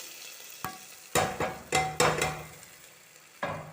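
Fried onion tempering goes into pulissery curry, heard as a sequence of sharp metallic clinks and scrapes of a spoon against the pan, each followed by a brief sizzle, close by with no talking.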